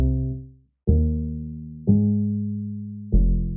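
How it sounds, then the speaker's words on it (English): Deep upright bass notes layered under a sub sine bass, in a lo-fi house style: three separate long plucked notes with a strong low fundamental and a slow decay, clean and close, with no voices. "to build onto that bass and give it more of a sub bass tone and feel more like a DI'd upright bass"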